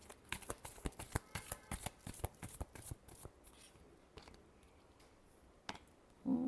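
Tarot cards shuffled in a rapid run of crisp riffling flutters and taps, close and fairly loud, slowing to a few scattered slaps before a final soft thump.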